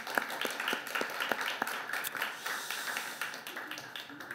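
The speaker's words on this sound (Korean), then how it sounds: "우리 하나님께 그 박수로 영광을 돌립시다." A church congregation claps to give glory during a worship service, a moderately quiet stretch of steady applause with some distinct rhythmic claps near the start, and faint voices underneath.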